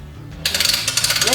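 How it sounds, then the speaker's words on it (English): A hand winch on a shop press table is cranked while pressing a 3000GT transfer case spool, giving a fast run of metallic ratcheting clicks. The clicks are loud and close after a brief quiet start. "now we're just going to grab this winch,"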